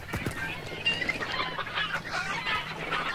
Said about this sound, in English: These chickens are noisy